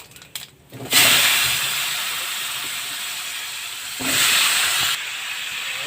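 Pumpkin pieces tipped into hot oil with whole cumin set off a sudden loud sizzling hiss that holds steady, then briefly surges again before settling.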